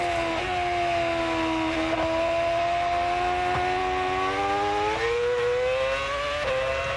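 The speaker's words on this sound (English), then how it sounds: "Just hearing the sound of these engines, this engine reverberating off the trees" A Formula One car's engine revs steadily and loudly, its rising, high-pitched whine echoing off surrounding trees with short gear-change dips, sustained without pause.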